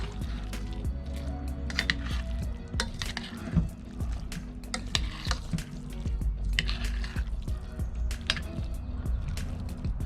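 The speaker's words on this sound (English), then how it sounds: "Give it a quick stir around." Wet, squishy stirring of a beef jerky risotto in a pot, with soft scraping and sloshing sounds repeating irregularly at close range.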